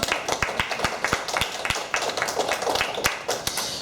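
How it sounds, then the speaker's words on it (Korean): A church congregation claps in brisk, distinct beats, the close sharp claps coming in a fairly regular rhythm with a few voices faintly underneath. "박수 한번 쳐주세요"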